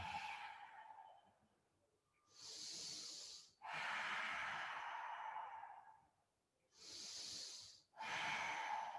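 Slow, deep breaths during a seated yoga twist, with long airy inhales and exhales in several separate swells and quiet pauses between them, close to the microphone and with no talking.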